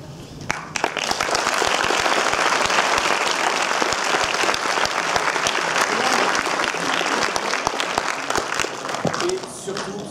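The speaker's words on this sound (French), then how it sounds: "Je vous demande d'applaudir très fort" Loud, sustained applause from a French audience at a film debate greets the moderator's arrival, a dense wall of clapping and crowd noise lasting the whole stretch without pause.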